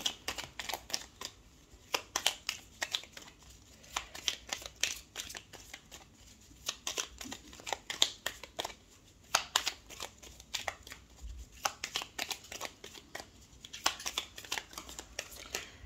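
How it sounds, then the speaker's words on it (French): Tarot cards are shuffled by hand before a thirteen-card spread, making quiet, close, crisp riffling clicks and flutters in irregular bursts, with no talking. "on va faire un tirage donc en 13 cartes avec le nouvel Étaya"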